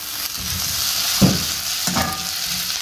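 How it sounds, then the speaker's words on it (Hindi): Three sliced tomatoes sautéing in a pan of vegetables, a steady close sizzle with a couple of sharper bursts as they are stirred. "थोड़ा सा इनको सौते करेंगे"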